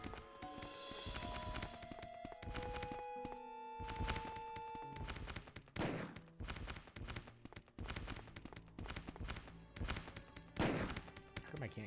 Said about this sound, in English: Let's shoot these guys.